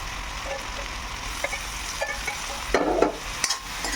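Prawns lightly cooked with turmeric are stirred into frying gongura in a pan: a steady close sizzle broken by several scraping, clattering stirs, the loudest one about three-quarters of the way through.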